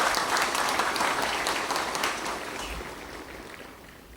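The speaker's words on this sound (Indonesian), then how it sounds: "Mari tepuk tangan." An audience applauds at an outdoor ceremony marking the tenth anniversary of Pegunungan Arfak Regency in Papua. The dense clapping is fairly loud at first, then gradually fades, with no voices over it.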